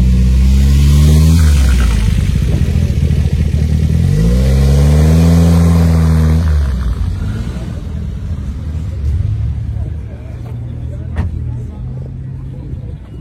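A Ferrari revs and drives off nearby, with loud rising engine sweeps and a throaty rumble that fades as the car pulls away, while people talk over it.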